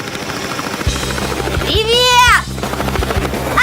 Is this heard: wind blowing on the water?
no